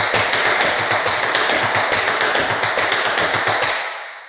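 Tap shoes performing fast shuffle steps, a rapid, steady stream of crisp, close metallic taps on a hard floor, alone with no voices.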